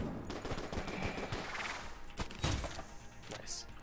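The rad gun firing in Enter the Gungeon, a steady stream of quick, punchy shots with thuds and impacts, fairly quiet under game effects.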